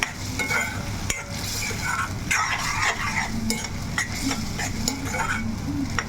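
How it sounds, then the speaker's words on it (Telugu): Onions and masala fry in a pan with a little added water, sizzling continuously as a spoon stirs and scrapes busily, with metallic clinks of utensil against cookware throughout. "ఇప్పుడు కలిపేస్తున్నాము ఈ ఉల్లిపాయలతో పాటుగా ఈ మసాలా కూడా మనకు బాగా వేగుద్ది"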